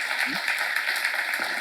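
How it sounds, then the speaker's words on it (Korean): Brief audience applause at a church seminar lecture in Korea, a steady wash of clapping heard over a hall's background hum, with a few low voice fragments mixed in. "박수 한번 주세요."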